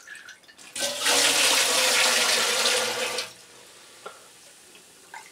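Peach brandy liquid is poured through a screen into a still pot: a steady, fairly loud splashing gush lasting about two and a half seconds, followed by a few faint drips and knocks.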